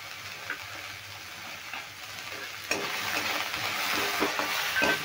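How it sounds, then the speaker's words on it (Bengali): Vegetables for a kochuri filling fry with salt and turmeric while being stirred in a pan: a steady close sizzle with scraping stirs that grows louder partway through. "এবারে এই সবজিগুলো আমি খুব ভালো করে নেড়ে একটু ভেজে নেব"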